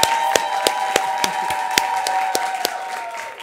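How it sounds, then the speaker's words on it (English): A studio audience at a television talk show gives a steady round of applause, dense and close, with sharper individual claps standing out at regular intervals over a faint sustained tone. "So please, a round of applause."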